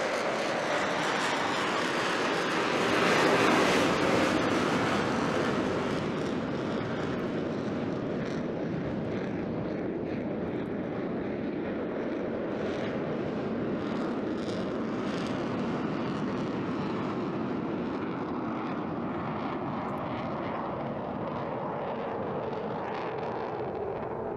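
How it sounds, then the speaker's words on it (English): Eurofighter Typhoon jet engines in full reheat during an airshow display, a loud sustained roar swelling early and then holding as a steady distant rumble with no talking. "he's going to push the throttles. There we go. Back into full reheat."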